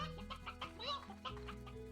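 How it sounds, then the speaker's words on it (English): An elder Roostro, a rooster-like creature in the video game Slime Rancher, clucks in a quick run of short clipped calls, close and clear over faint game ambience, with no talking. "oh, that's an elder Roostro? Shakes his tail feather and no one cares"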